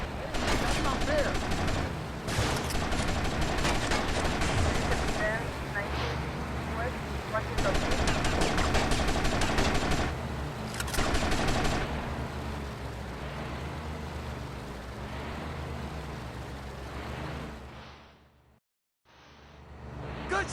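Sustained gunfire in the video game GTA Vice City: loud, dense bursts of automatic shots in repeated volleys over engine and ambient noise, with game voices talking in between and a brief drop to silence near the end.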